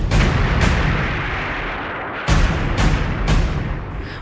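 Loud, close bomb blasts boom one after another at a madrasa in a village in Banka, India, four or five heavy explosions at uneven intervals, with rumbling between them.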